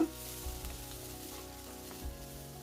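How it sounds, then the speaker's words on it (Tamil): Onion, ginger and garlic sautéing in a pan, a faint, steady sizzle with a couple of soft stirring bumps, quiet and brief. "இதையும் சேர்த்து நல்லா வதக்கிக்கோங்க"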